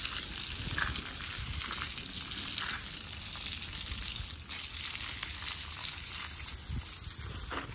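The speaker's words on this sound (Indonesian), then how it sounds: "Bila kita siram ni, tengok baja dia terus masuk ke dalam tanah lah." Water poured from a hose or can onto fertilizer-covered soil beneath a garden tree, a steady hissing, fizzing splash that soaks into the ground, continuous and close with no voices.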